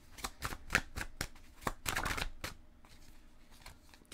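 Tarot cards are shuffled in a rapid run of crisp riffling snaps and flutters, close and clear, slowing into softer sliding rustles toward the end.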